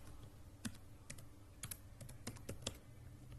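A URL is typed into the Chrome browser on a computer keyboard: quiet, close keystrokes in an irregular patter with brief pauses.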